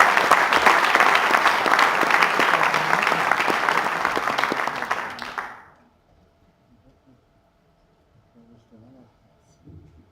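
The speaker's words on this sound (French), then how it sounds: "je voudrais un tonnerre d'applaudissements" Audience applause in a French event hall, a dense steady burst of clapping from a crowd that fades out after about five seconds, leaving near silence with faint scattered sounds.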